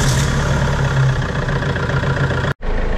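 An Opel car engine, just repaired at the EGR valve, idles loudly and steadily up close with a low even rumble, then cuts off abruptly.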